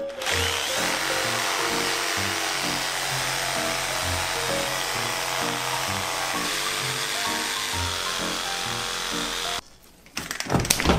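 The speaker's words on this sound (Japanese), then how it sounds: "背骨はね、でんのこで切っていきます。" Electric saw cutting through the backbone of a huge crocodile weighing over 100 kg: a steady, loud grinding whine with rhythmic pulsing that runs continuously for about nine seconds, then stops abruptly, followed by clattering handling noise.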